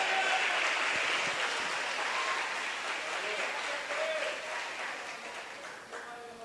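A congregation at a thanksgiving worship service breaks into sustained applause, a dense wash of clapping that stays loud and gradually tapers, with some voices calling out within it.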